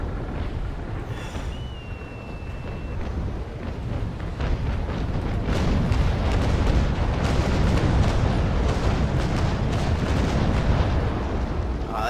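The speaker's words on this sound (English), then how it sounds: "And I hear cannon splashing around me" Naval cannon fire rolls through a large sailing-ship fleet battle involving the USS Constitution in the game Naval Action. Dense booms and rumbling blasts continue for the whole stretch with no talk.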